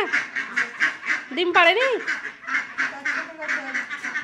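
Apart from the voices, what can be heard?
ducks quacking by a pond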